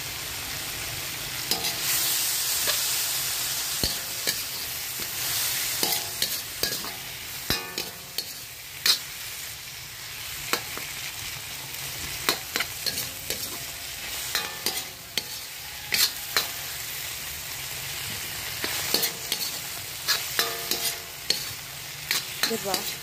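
Ginamos shrimp paste from Bacolod sizzles and fries in a pan, a constant hissing crackle broken by repeated scraping, stirring clatter, loud and close with no voices.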